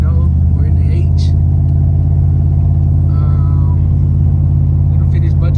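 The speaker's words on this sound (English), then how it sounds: "Today we're driving the Domino's truck." A Domino's truck's engine rumbles steadily from inside the cab while driving, a constant low drone with a few brief revs and rattles, heard close and loud throughout.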